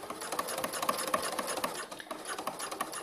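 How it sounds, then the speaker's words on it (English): A cover stitch sewing machine runs steadily in a fast, even mechanical rattle, stitching a romper or dress seam, close and continuous without talk. "Usually my cover stitch is matching, and I use my cover stitch actually."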